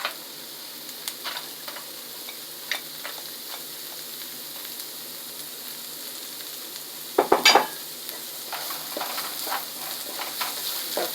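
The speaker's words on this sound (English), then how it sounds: "We're going to fry that along with the garlic and the ginger" Garlic, ginger and carrots fry in a pan with a soft, even sizzle, broken by scattered light ticks and a brief burst of stirring clatter midway.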